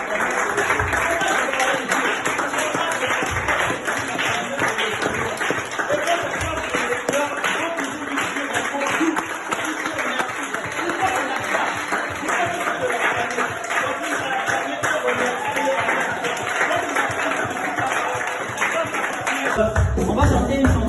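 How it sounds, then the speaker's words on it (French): Church congregation applauding and cheering for the Lord, a dense, steady wash of clapping and raised voices that fills the whole stretch without pause. "Continue d'acclamer pour le Seigneur."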